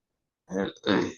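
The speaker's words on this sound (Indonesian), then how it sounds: "Ini saya sedang batuk juga ya, batuk pilek ini." A person with a cold gives a short double cough, two rough, throaty bursts in quick succession, close and fairly loud, with no other sound.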